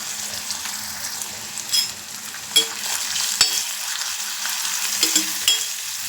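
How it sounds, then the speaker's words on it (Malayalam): Ginger sizzles and fries in hot coconut oil, a steady close crackle broken by occasional stirring scrapes and clinks, with no voices. "എണ്ണയൊക്കെ ഒഴിച്ചിട്ട് ഒന്ന് വറുത്തെടുക്കട്ടെ"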